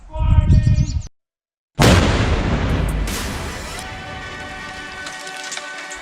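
A G-Shock G-Steel watch is blown up in a test blast: the scene cuts to a sudden loud, booming detonation that rumbles and slowly fades into a crackling, hissing tail.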